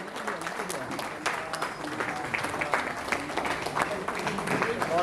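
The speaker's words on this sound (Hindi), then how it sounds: "जोरदार तालियों के साथ" An audience claps loudly to welcome a speaker at an Indian gathering, a steady dense applause close by that runs throughout, with a voice speaking over the clapping.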